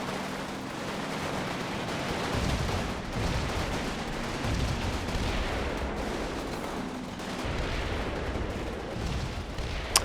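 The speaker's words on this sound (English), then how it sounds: "So they fire a few shots and make their way out of there." Engineers in Combat Mission fire a few shots amid a sustained din of distant gunfire and rumbling battle noise, with scattered cracks rising and falling over ten seconds.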